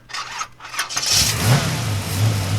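A Renault-powered Formula 1 car in the F1 23 video game launches at the race start, its engine rising from a low rumble into a loud, sustained, revving roar after a few brief bursts.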